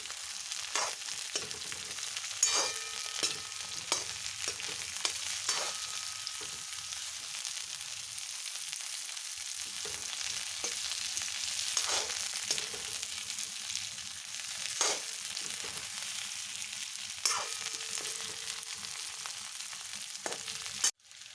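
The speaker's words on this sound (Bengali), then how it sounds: "তিনটে ফুলকপি কুচি আমি দিয়ে দিচ্ছি ভালো করে নাড়াচাড়া করে ভেজে নেব" Chopped cauliflower fries in a pan with a steady, loud, continuous sizzle, broken every few seconds by brief stirring scrapes and pan knocks.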